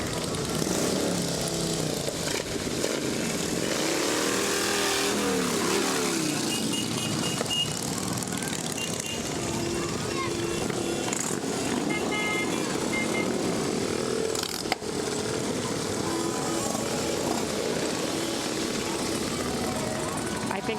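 Motorcycle engines drone and rumble steadily outdoors as a motorcycle riders club rolls past in a town parade, with a crowd and voices talking over the noise throughout.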